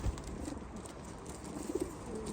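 Pigeons coo softly in a short, faint burst of low murmuring calls, heard alone with no voices.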